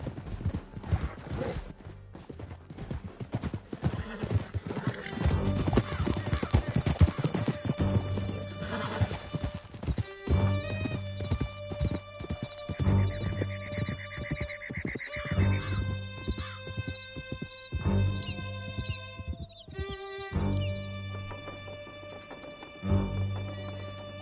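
Several horses galloping at speed in Red Dead Redemption 2, steady clip-clop hoofbeats with loud neighs and whinnies over a canyon chase, music and effects layered beneath.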